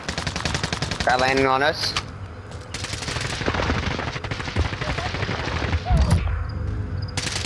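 Hostile gunfire in a video game crackles in sustained rattling volleys and sharp bursts, heavy at times and thinner at others, while a player speaks briefly over it.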